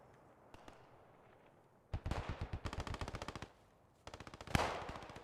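German MG machine gun in Post Scriptum firing two sustained rapid bursts, loud and close, with a separate sharp shot and faint background battle noise between them.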